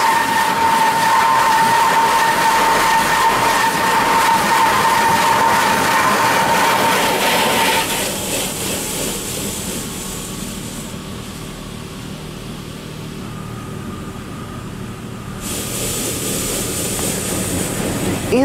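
Water Wizard automatic car wash in Lake Ozark, MO, running loudly: a steady broadband roar and rushing spray with a high whine, easing quieter midway, then swelling again near the end.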